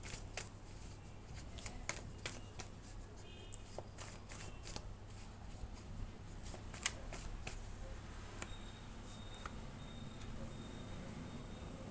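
A deck of tarot cards being shuffled during a reading, giving soft repeated riffles and flicks at low volume over a steady background hum, with no talking.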